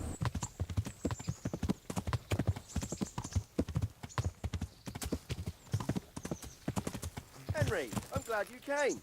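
In Kingdom Come: Deliverance, a horse's hooves clip-clop in a close, steady rhythm of repeated thuds as it backs away, ending with a loud whinny near the close.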